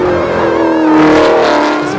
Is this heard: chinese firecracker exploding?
no